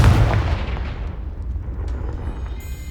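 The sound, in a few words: Confringo fire spell explosion in the Hogwarts Legacy video game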